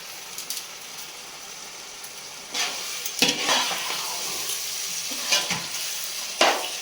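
Chicken pieces sautéing in a pan for seeraga samba biryani, a steady close sizzle broken by scraping spoon-stirring strokes and occasional clinks against the pan, no voices.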